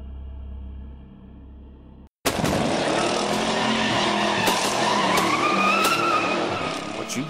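A car speeds off with its tires skidding and squealing after a brief quiet hum and a sudden cut. The engine roars loud and close while the tire squeal rises in pitch, and a few sharp bangs punctuate it.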